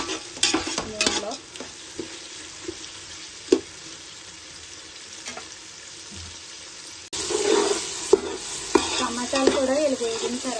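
Tomatoes frying in oil for gongura chicken biryani, a low sizzle with scattered utensil clinks and scrapes that turns louder and busier partway through with rough stirring.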